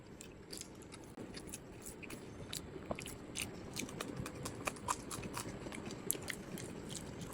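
Egg kacchi biryani being eaten close to the mouth: continuous soft, wet chewing with frequent small crunchy clicks and smacks, steady and intimate, with no voices.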